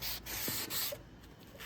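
Glue being wiped off a surface, a faint close rubbing and scuffing in short repeated strokes with brief pauses, no voices.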